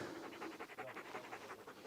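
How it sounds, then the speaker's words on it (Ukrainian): A service dog pants steadily up close, a quick rhythmic run of breaths repeating throughout with no other sounds around it. "це службовий собака Саймон"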